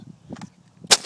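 An airsoft shotgun firing a BB: a single sharp crack near the end, close and loud, after some quieter handling sounds.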